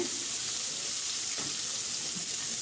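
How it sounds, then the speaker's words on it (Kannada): Onions fry in a little oil in a pan for a hotel-style bottle gourd sagu, a constant close sizzle with faint stirring scrapes and no talking. "ಸ್ವಲ್ಪ ಎಣ್ಣೆಯಲ್ಲಿ ಫ್ರೈ ಮಾಡ್ಕೊಳ್ಳೋಣ ನೋಡಿ ಫ್ರೈ ಆಗ್ತಾ ಇದೆ"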